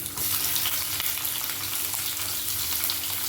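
Onion, green chilli and curry leaves fry in hot oil for a South Indian potato curry, making a loud, dense, constant sizzle close by with no pauses.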